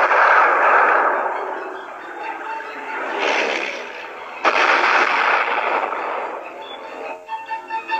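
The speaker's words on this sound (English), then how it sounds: "Using some old German battleships as targets, Billy Mitchell showed what precision bombing could do." Bombs exploding on old German battleships during a precision bombing demonstration, rendered as rumbling, band-limited blasts and a sustained roar with a sharp impact midway, loud with a few crackling pops at the end.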